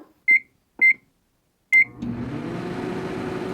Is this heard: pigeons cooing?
no